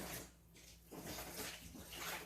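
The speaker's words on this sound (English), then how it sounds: "Here's 4 liters. I'm just gonna pour it in on top of the brick." Four liters of water poured onto a brick, giving a steady, close splashing rush that briefly dips before continuing.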